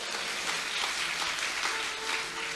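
Audience clapping in a steady, dense wash of applause that holds evenly throughout, with no voices on top.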